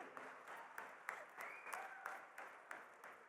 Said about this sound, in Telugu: వాళ్ళందరి కోసం మళ్ళీ ఒకసారి క్లాప్స్ కొట్టండి.